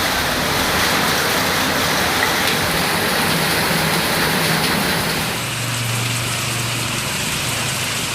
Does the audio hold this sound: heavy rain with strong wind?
yes